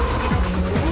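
A GP2 race car spins through a full 360 on very wet grass at Stavelot, with a brief, steady hum of engine and tyre noise lasting about a second.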